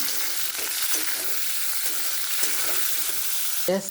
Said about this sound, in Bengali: এবার ক্যাপসিকাম কুচিটা একটু নেড়ে নেব।